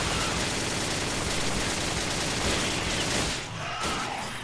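Sustained gunfire from the player's weapon unloading into a boss's soft underbelly in Resident Evil 5, a dense continuous burst of shots that drops off near the end.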